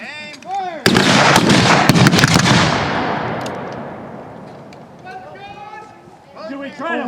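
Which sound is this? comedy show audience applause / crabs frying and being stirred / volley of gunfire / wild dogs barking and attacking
volley of gunfire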